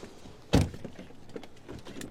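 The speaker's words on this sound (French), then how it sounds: "On ouvre la porte." The rear door of a Tesla Model Y is opened, a single close sharp thunk of the latch releasing, followed by faint rustling and light clicks in a quiet cabin.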